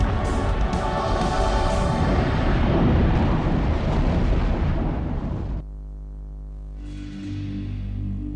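Mount St. Helens erupts in a massive volcanic explosion, a long roaring blast that cuts off abruptly into quieter rumbling before a second swell of noise.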